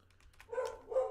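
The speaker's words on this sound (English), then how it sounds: "I have a rather aggressive dog today." An aggressive dog gives two short, sharp barks in quick succession. The sound is moderately faint and somewhat distant, as if the dog is reacting to neighbors outside.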